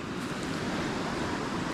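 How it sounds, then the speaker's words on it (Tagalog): A river swollen by floodwater after Typhoon Aghon rushes past, a loud, steady, broadband roar that fills the whole moment with no talk. "nadubli na po pati yung ilog pala oh"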